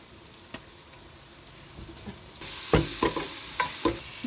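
Ginger garlic paste dropping into hot oil with potatoes in a pan sets off a sudden louder sizzle partway through, followed by several scraping stirs, close up.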